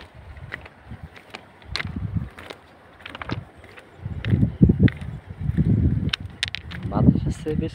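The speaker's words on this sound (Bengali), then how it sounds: "বাতাস আছে, বেশ বাতাস।" Strong wind gusts outdoors beside a fish-pond embankment in open farmland, buffeting the microphone in uneven low roaring bursts that come and go.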